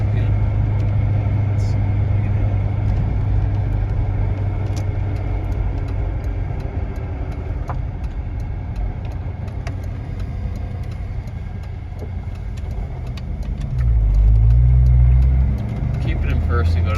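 A Ford Mustang engine runs steadily at idle and is then held at about 2,500 RPM, a constant near engine drone that swells briefly louder toward the end, with a person talking over it.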